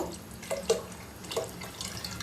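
Mutton cooking liquid, from meat braised in yogurt for biryani, poured out in a close, quiet trickle with a few soft splashes and drips, no voices over it.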